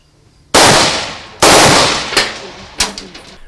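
Several sharp rifle gunshots with live rounds ring out in quick succession at a youth camp firing range, two loud blasts followed by quieter, closer-spaced shots, each with a short echoing decay.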